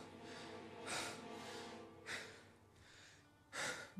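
A man in the Mafia video game breathes heavily in three sharp, gasping bursts spaced over a few seconds, with softer breathing between them, fairly quiet with no talk.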